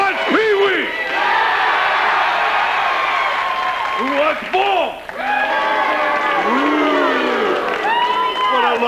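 A studio audience on a late-night talk show cheers, whoops and shouts loudly in repeated waves around a playful thumb-wrestling bout, with a voice calling out over the noise.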